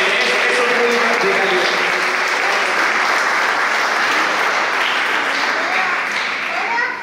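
Sustained, dense applause from a large audience at a religious gathering, steady and loud across the whole span before tapering slightly at the end, with some voices mixed in.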